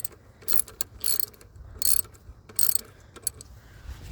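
A ratchet wrench tightens the serpentine belt tensioner on a 2000-2004 Subaru Outback, giving several short, close bursts of bright metallic clicking separated by brief pauses.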